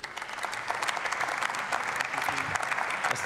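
Members of the German Bundestag clap during a debate on extending the Bundeswehr training mission in Niger: sustained, fairly loud applause from many hands filling the chamber, with a few faint voices underneath.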